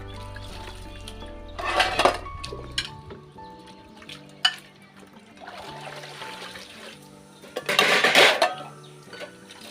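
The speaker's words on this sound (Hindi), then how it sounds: "ये देखिए बर्तन धो ही रही थी" Dishes, pots and utensils being washed in a home kitchen, with running water bursts, clattering metal pots and clinking cutlery, close and intermittent with louder scrubbing and splashing spells.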